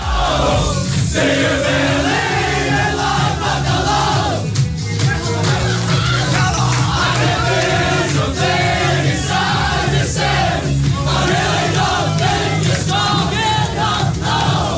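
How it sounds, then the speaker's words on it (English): Darvel football players cheer and sing together in a dressing room, a dense, loud wall of voices with shouts and chanting rhythm running throughout. "Darvel's team are back cheering in the dressing room with the song that sums up their story so well"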